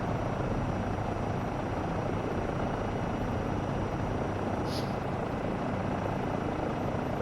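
Helicopter rotor from Microsoft Flight Simulator 2024, flying over Yas Marina, a steady loud continuous whir and drone throughout with no talking.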